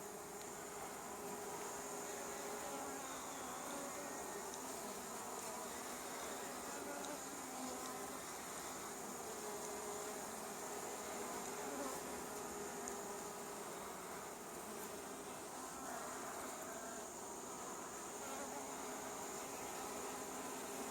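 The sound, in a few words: honey bee swarm buzzing around a hive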